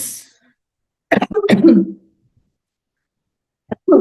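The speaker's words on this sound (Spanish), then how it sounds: "no sé por qué estoy tosiendo tanto" A few short, harsh coughs in a quick cluster near the microphone, followed by silence and then one more brief cough.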